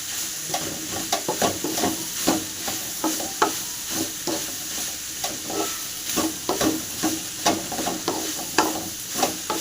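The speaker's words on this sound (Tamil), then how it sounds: "இப்போ நல்லா கலக்கிங்க" Bamboo shoot stir-fry stirred in a pan, a spatula scraping and clacking in quick irregular strokes over a steady background sizzle, close and moderately loud, with no talking.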